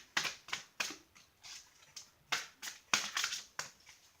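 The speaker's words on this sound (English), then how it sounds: "Sometimes I take a while to shuffle" Crisp, papery riffling of tarot cards being shuffled in short bursts, a dozen or so quick flurries close by with brief pauses between, no talking.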